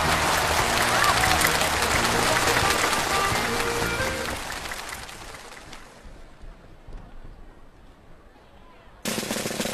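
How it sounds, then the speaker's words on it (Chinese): An arena audience claps for North Korean trapeze artists at a circus festival, thick applause that fades after several seconds to a quieter murmur before a sudden loud burst returns at the end. "我们也请现场的观众用你们的掌声来给他们祝福和力量"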